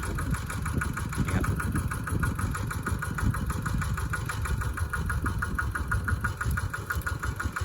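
A Kubota ET95 diesel engine drives a water pump, running nearby with a steady, loud chugging idle and an even knocking rhythm throughout, with no voices.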